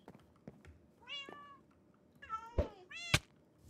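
Cats in the block-building video game Minecraft meow several times over about four seconds, short rising and falling cries with a few soft knocks between them, fairly quiet and alone.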